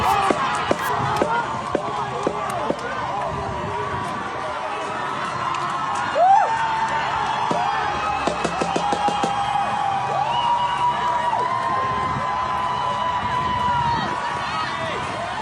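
Harvard student protesters storming the campus, a crowd cheering and shouting continuously, with scattered whoops and claps over a dense background of voices and movement.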